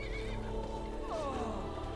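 Horse neighing during a fight in Skyrim: a single loud whinny sweeps down in pitch midway, over a steady rumbling game background.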